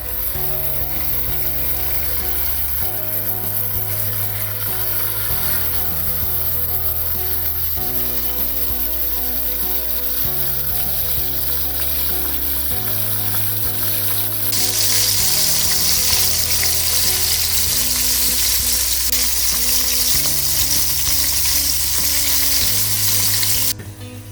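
Banana-leaf-wrapped fish parcels, Kerala style, pan-fry in a little oil with a loud, steady crackling sizzle that swells brighter about halfway through and carries on without talk.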